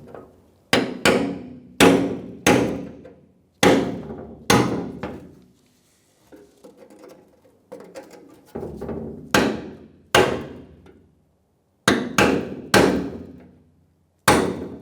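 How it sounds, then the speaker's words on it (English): A brass punch struck with a hammer against the rusted fuel tank lock ring of a 1992-1996 Ford F-150, giving loud, sharp metallic blows in irregular clusters with short pauses between, close up. "I like to use a brass punch and a hammer"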